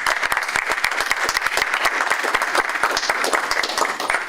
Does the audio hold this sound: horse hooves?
no